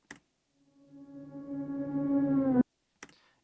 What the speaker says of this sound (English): this pitch thing, automating it's kind of like sliding down, if you hear it